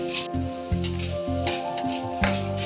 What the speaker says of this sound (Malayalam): ഇത് നല്ലോണം മൂത്ത് വരുന്ന സമയത്ത് ഇതിങ്ങനെ ഇളക്കുന്ന സമയത്ത് ഒരു ക്രിസ്പി ആയിട്ടുള്ള ഒരു സൗണ്ട് കേൾക്കാം